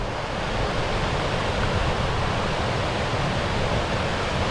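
A continuous broadband rush of water falling at a mountain creek waterfall, steady and even throughout with no other sounds.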